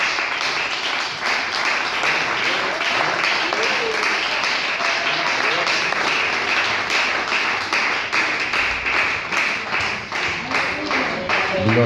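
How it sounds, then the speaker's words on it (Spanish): A church congregation applauding, a dense sustained wash of clapping from many hands that continues steadily, loud and fairly close. "Denle un aplauso a Cristo"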